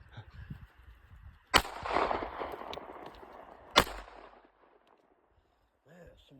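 Two sharp shots from a Sig Sauer P238 pistol ring out outdoors about two seconds apart, each loud and cracking with a brief echoing tail, surrounded by faint background murmur.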